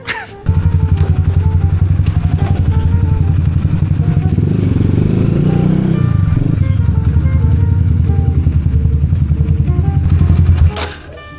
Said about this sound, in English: see what they can do about this loud exhaust